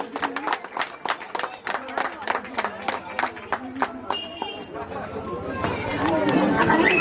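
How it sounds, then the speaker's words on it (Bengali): An audience at a Durga Puja function in Uchitpur, Purba Bardhaman claps in response to a call from the stage, a burst of applause rising over a rhythmic beat and crowd chatter that swells toward the end. "করতালি দিয়ে অভিনন্দন জানাবেন।"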